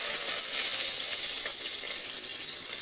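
Mustard seeds and curry leaves crackle and hiss in hot oil in a pan, a steady close sizzle with fine popping that holds throughout.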